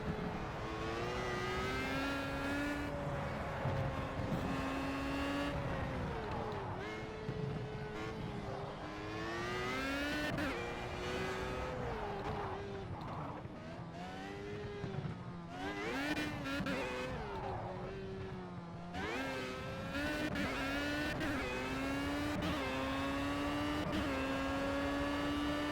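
An LMP1 prototype race car in Project CARS screams through a time-trial lap, its engine revving high and dropping through repeated gear shifts, loud and steady throughout.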